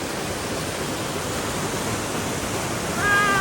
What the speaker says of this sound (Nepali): यहाँ वाटर फलिङ हेर्न सक्नुहुन्छ है गाइस, वाटर फलिङ